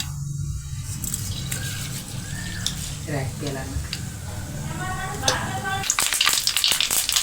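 Hot oil sizzles steadily in a pan as fennel and mustard seeds are added, with sharp spattering pops near the end, while a voice talks over it.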